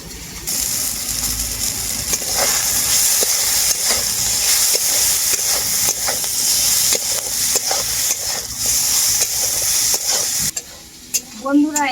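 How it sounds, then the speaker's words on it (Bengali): Brinjal with crushed neem leaves fries in a pan, giving loud, continuous sizzling and hissing with steady scraping of a spatula, then a brief burst of other clatter near the end. "ভালো করে বেগুনটা প্রায় ভাজাই হয়ে এসছে এরপর আমি গুঁড়ো করা নিমটা দিয়ে দেবো বেগুনের মধ্যে"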